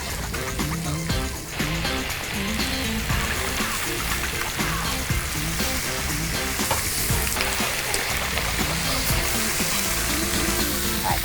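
Lemongrass chicken thighs fry in a pan with a loud, continuous, close sizzle and crackle that holds steady for over ten seconds, with faint movement of the pieces now and then.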